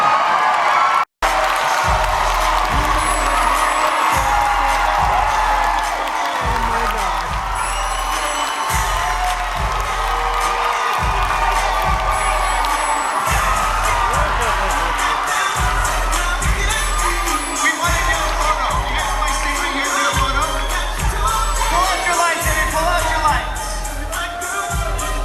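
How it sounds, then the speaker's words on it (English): A crowd at a convention celebrity panel roars with steady cheering and whoops, accompanied by regular rhythmic thumps like stomping or pounding, loud and continuous for the whole stretch. "Cheering for Lex Luthor"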